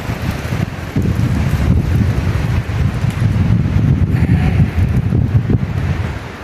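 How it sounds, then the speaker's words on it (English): Strong wind rushing through the woods, a loud, continuous roar with gusts that swell and ease, buffeting the microphone, with no voices. "oh, this wind, my goodness."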